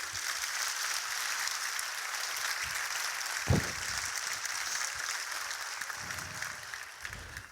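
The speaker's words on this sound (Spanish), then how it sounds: "Un aplauso para nuestro arquetipo." Audience applause at a gladiator combat show, a steady wash of crowd clapping sustained throughout at moderate distance, with a brief louder thump midway and no talk over it.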